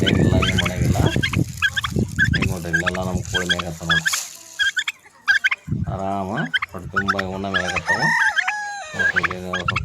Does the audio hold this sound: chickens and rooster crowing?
yes